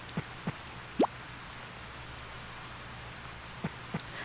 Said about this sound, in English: Not that you can hear it because it's raining.